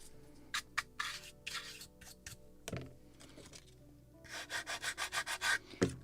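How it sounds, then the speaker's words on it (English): Sandpaper rubs on a wooden model boat's planking to remove excess glue, in scattered scratchy strokes, then a quick rhythmic run of about ten even back-and-forth passes, close up. "Why I'm sanding because I have this glue sticking out."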